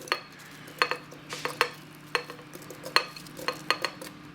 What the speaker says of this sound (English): Now I'm going to go and add in the cubed apple.